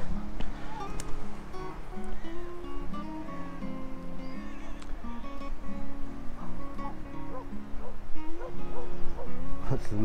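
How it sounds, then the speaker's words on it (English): Many dogs bark and yip together on a clifftop above Exmouth Beach in Devon, an overlapping chorus of barks and whines carrying on throughout, with a busy outdoor background. "Hundreds of dogs out having a run around."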